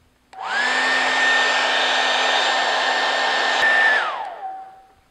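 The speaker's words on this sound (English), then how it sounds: "For best results, heat the glue up with a hairdryer." A hairdryer switches on, blows with a steady, loud whine and airy rush for several seconds while heating glue on an inflatable boat patch, then winds down and fades as it is switched off.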